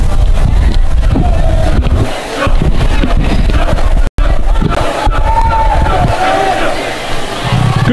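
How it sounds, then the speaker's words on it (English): A crowd cheers at a high school volleyball match in a gym, with many students from the visiting school among them: loud, continuous shouting and chanting that is dense and close, with a brief dropout midway. "They're having fun while they're here, cheering their team on."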